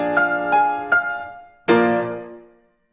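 Orchestra playing Beethoven's original sketch of the Eroica opening bars: three short, separate dominant chords, then a longer sustained chord that rings out and fades into silence.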